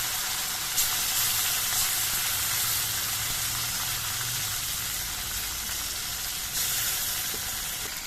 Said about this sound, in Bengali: এবার তেলের মধ্যে মাছগুলো দিয়ে আমি মাছগুলো ভেজে নিচ্ছি